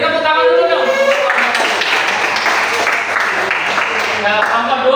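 A classroom group gives a round of applause before a team presentation: moderate clapping from several people swells in the middle and fades, with voices talking over it at the start and end.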